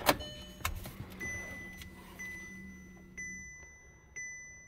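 A car engine starts up after an oil change, a sharp crank then a steady low idle, while a bright electronic chime repeats about once a second and continues after the engine note fades.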